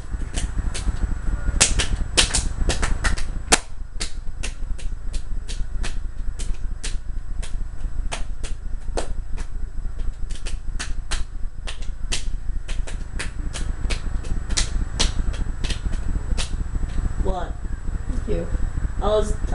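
Rapid sharp pats or taps, close and crisp, repeat in a steady rhythm over a constant low hum, with a voice talking underneath at times.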